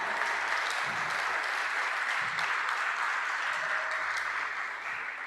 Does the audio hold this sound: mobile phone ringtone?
no